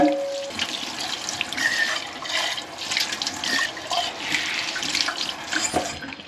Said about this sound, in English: And then I'm going to rinse the water out, the entire tumbler, just like I did the other two.